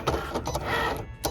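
A Cricut cutting machine runs with a whirring motor and short mechanical clicks and whines as the carriage moves, close by and moderately loud.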